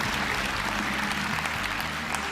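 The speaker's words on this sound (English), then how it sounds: "You may applaud at will." Studio audience applauding after a knot magic trick with handkerchiefs, a sustained, even wash of clapping filling the room throughout.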